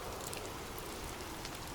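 Steady rain heard as a soft, even wash of broadband hiss, faint and continuous with no other sounds.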